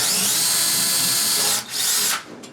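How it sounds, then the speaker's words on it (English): A power drill whines steadily as it bores a pilot hole into a wall for masonry screws, then briefly drops off and restarts before stopping, close up with no talking. "I'm just drilling a hole slightly smaller than that into the side here."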